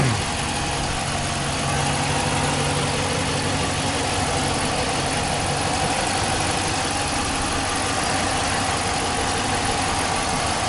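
A 5.7-litre Hemi V8 in a 2015 Ram 1500 Express pickup idles steadily up close, a deep even rumble with a busy mechanical hum that holds constant throughout.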